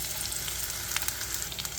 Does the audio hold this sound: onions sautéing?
yes